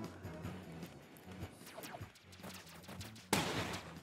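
Bursts of enemy gunfire in the roguelite rail shooter Whisker Squadron: Survivor, several rapid volleys over engine hum and game music, ending in a loud sharp blast.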